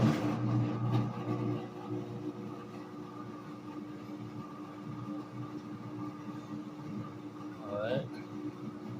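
A Whirlpool washing machine drains and spins with a steady mechanical hum and whir, moderately loud and continuous, with a brief rising whine near the end.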